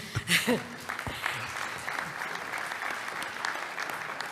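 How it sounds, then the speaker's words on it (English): Audience at a Lions Europa Forum session in Klagenfurt applauds for Venice, a steady sustained clapping that starts with a brief voice and a few sharp sounds, then continues evenly throughout. "please a big applause for Venice"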